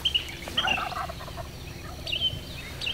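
Wild turkey gobbling outdoors during a hunt, a few short rattling gobbles at a moderate distance over quiet background ambience, with no talk.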